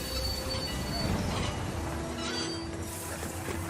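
Steel train wheels squeal continuously on the rails in a sustained metallic screech with steady rumbling underneath, with no talk over it.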